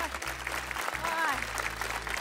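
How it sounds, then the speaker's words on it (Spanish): A studio audience on a Spanish television variety show claps steadily while people talk and laugh over the applause. "vamos a dar un aplauso a Madalena."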